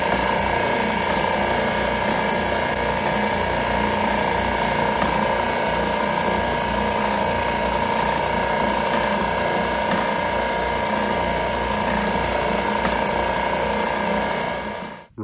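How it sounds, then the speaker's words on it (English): A RIDGID oscillating spindle sander runs with its belt set too low, knocking against the inside of the tool as a continuous rattling, grinding mechanical drone that stays steady and loud throughout, with no talking. "If you go too far negative, the belt will go pretty far down and you can actually hear it hit the inside of the tool."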